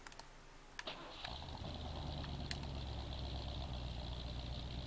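A GMC truck engine with a suspected fuel problem idles roughly and labors as it struggles in gear, a steady low rumble after a few clicks and knocks at the start.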